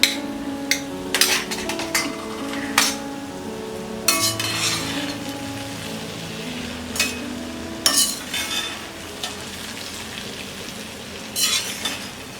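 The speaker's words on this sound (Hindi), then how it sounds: "हम थोड़ा थोड़ा डाल के मिक्स करेंगे" A spoon stirs raw green mango rice in a dish, making irregular clinks and scrapes against the vessel, with short bursts of clatter and quiet gaps between.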